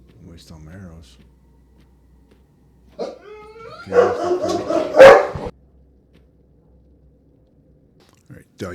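A dog barks and growls in the fantasy RPG Tainted Grail: The Fall of Avalon, with a few short yips followed by a louder burst of barking, set against quiet game ambience.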